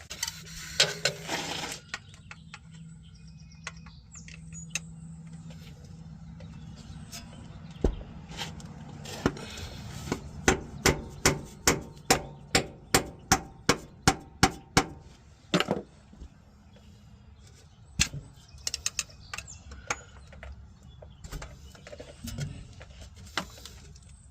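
A screwdriver pries at a worn transfer case bushing on a 2004 Chevrolet Silverado, giving a quick burst of sharp metallic clicks and taps midway through, with scattered knocks and scrapes before and after.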